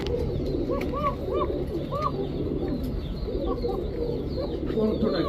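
A pair of Basiraj pigeons coos in repeated soft, rolling calls, close by and steady over a constant background hum.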